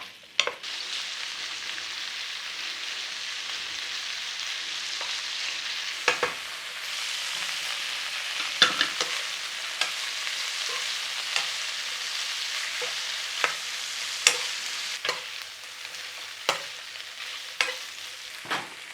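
Smoky ham frying in a pan and being stirred, a steady bright sizzle running throughout, broken by sharp scraping clicks from the spoon at irregular moments, no voices.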